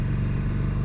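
A Harley-Davidson Sportster 1200 motorcycle being ridden gives a loud, steady low engine rumble with a pulsing throb. The sound fills the whole brief moment and there are no voices.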